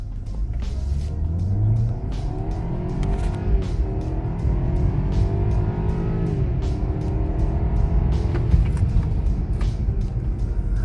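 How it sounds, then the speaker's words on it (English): A BMW 520i Sport engine pulls hard at full throttle, a loud, steady in-cabin drone whose pitch climbs through the revs, with a brief shift-like dip around two seconds, continuous and without speech. "you feel yourself gradually being pushed back more and more into your seat as the RPMs get higher"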